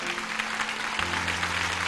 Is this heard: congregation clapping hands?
yes